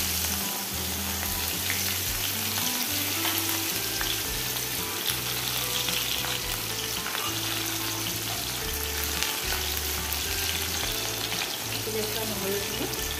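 Whole cumin, a dried chili and chopped onion fry in fish oil with a continuous, close sizzle. Stirring clatters come through in bursts, and there is no talk.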